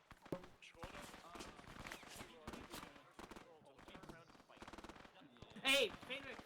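Gunfire in a World War II squad video game crackles in rapid bursts and scattered single shots at moderate distance, mixed with shouted voices and one louder burst near the end.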